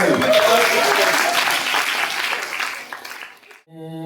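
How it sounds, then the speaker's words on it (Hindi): Hearty audience applause at a senior citizens' monthly get-together in Sector 10, Chandigarh, a loud burst of clapping with some voices that fades out over a few seconds before music begins. "जोरदार तालियां"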